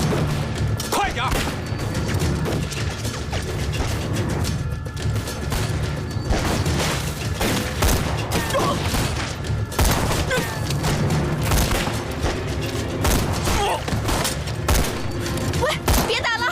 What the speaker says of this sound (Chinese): 喂，别打了，省点弹药。